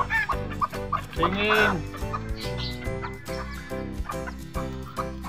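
Serama bantam chickens and chicks clucking close by, with overlapping clucks and a longer drawn-out call, while a person says a word briefly.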